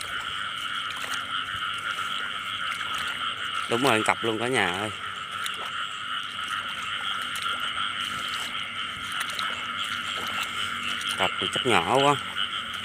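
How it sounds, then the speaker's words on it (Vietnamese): Field frogs croak at night on a frog hunt, a steady dense chorus with a few louder warbling croaks nearby, while people talk quietly over it. "Ếch đồng này thì ếch bự bự không à"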